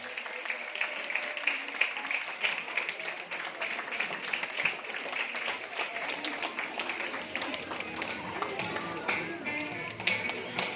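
A crowd claps steadily for honoured guests at an International Dance Day and Ugadi celebration, the dense patter of hands running for the whole stretch at moderate level.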